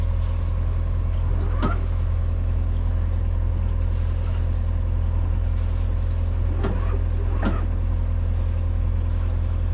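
A Bavaria 45 Cruiser yacht's diesel engine runs steadily at about 1200 RPM while the boat moves slowly, giving a constant low drone with a couple of faint knocks on top.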